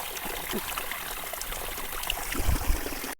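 Clean water from a mountain stream on the Agasthyarkoodam trail trickles and burbles steadily nearby, a soft continuous wash with a few louder splashes toward the end before it cuts off.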